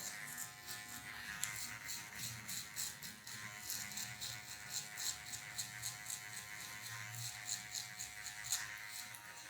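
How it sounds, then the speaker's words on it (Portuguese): Electric hair clipper trimming hair during a low fade haircut, a steady close buzzing hum with light rattling as the blade works, running continuously without talk. "E com a ponta da máquina, eu já vou tirar uns cabelinhos que eu considero mais escuros"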